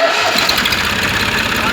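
A diesel engine being cranked and run during an export inspection, checked for inlet sound; a steady, loud mechanical rumble with rhythmic low pulsing throughout, close up, with faint voices in the background.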